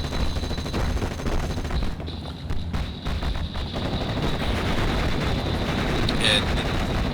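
Sustained rapid gunfire from a vehicle firing on infantry in the WWII strategy game Normandy 44, a dense continuous rattle of shots throughout with a brief dip midway, loud and close.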